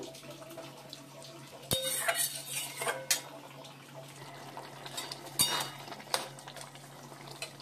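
A utensil scrapes and clinks against a pan while stirring a spice mixture for a vegetarian spiny gourd dish, at intervals with a few sharper knocks, over a faint steady background hum.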